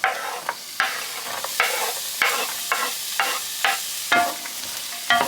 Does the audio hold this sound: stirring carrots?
yes